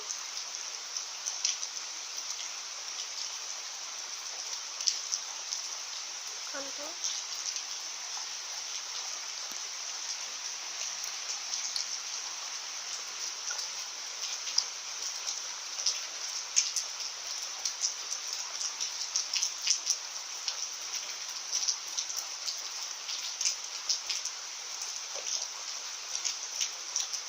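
Heavy rain pours steadily during cyclone Yaas in Odisha, a dense continuous hiss of drops drumming on surfaces close by, unbroken for the whole stretch with a brief spoken word near the start.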